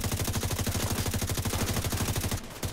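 Sustained automatic gunfire in The Division 2, a fast, loud, evenly spaced rattle of shots filling nearly the whole stretch, with a brief dip just before the end.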